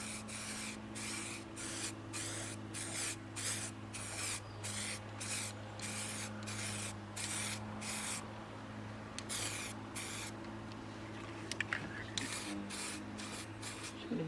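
Short, close hissing bursts of spray paint as a basic first coat goes onto Mazda MX5 Eunos Roadster rebuild parts, repeated in a quick rhythm of pulses with brief gaps.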